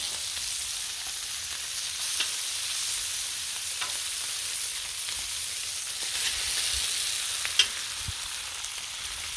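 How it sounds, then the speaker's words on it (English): Bacon frying on a Blackstone griddle, a steady close crackling sizzle with scattered pops and clicks, alone without voices. "Bacon's cooking up actually a little quicker than I expected, most of it."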